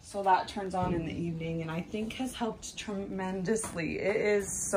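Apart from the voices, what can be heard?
None of the usual background noises is heard.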